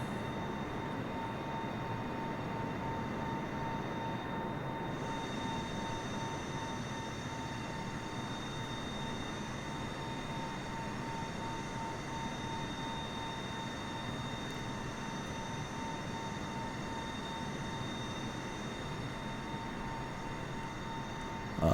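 Steady cockpit drone of a Boeing 747-8 airliner cruising on autopilot in Microsoft Flight Simulator after leaving Karachi, a constant broadband engine and airflow roar with faint steady tones, unbroken and even throughout with no talk.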